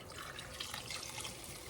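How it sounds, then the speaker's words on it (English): Water is poured from a big cup into a pot of ham and potato soup, giving a steady, close splashing and gurgling rush that lasts throughout. "And now's when I'm going to add my water to it."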